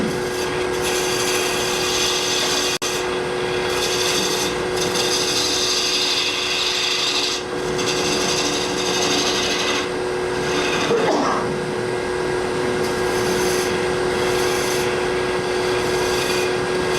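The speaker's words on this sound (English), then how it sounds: "So pretty soon I'm going to switch to scraping." A wood gouge scrapes a spinning workpiece on a woodturning lathe, a steady continuous rasping hiss over the motor's constant hum, close and loud throughout with no talk.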